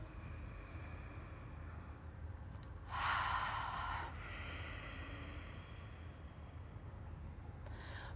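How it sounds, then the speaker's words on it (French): Ujjayi yoga breath, a slow inhale drawn through the nose with the back of the throat slightly constricted, heard as a single faint airy rush of about a second over steady low background hiss. "on va inspirer par le nez, expirer par la bouche, et vous allez terminer votre expiration par le nez"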